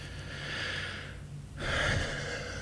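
A slow, deep breath drawn in and let out during a guided tapping session, a soft airy rush that swells, pauses, and swells again, close and fairly clear with no talk over it.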